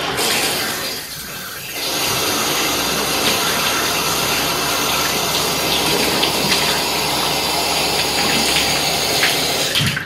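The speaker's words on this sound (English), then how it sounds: "I'm just going to run the hot tap on the bath just to wet the brush" Hot water tap running steadily into a bath, a continuous close gushing splash that starts softly and swells to a full, even pour lasting about eight seconds.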